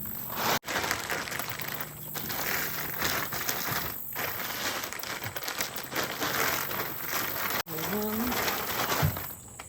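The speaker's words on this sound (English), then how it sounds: "wrap this tarp on it." A plastic tarp being wrapped around withered cold-weather crops, close crinkling and rustling handled in irregular bursts with a few sharp breaks, and a brief voice near the end.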